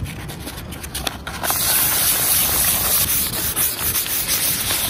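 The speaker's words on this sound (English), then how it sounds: "More sanding, I'm sanding, sand, sand, sand, I don't like sanding." Fine 800-grit sandpaper rubs back and forth over an antique wooden banker's desk, starting with a few scattered strokes and then settling into a loud, steady close-up rasping.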